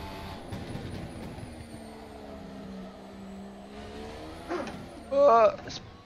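F1 development car in the rFactor 2 racing sim, engine note rising and falling through gear shifts with tire noise, a sharp high squeal near the end, and a voice talking over it.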